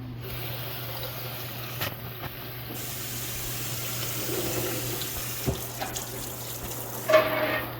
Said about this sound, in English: Step 1, give everything a good rinse.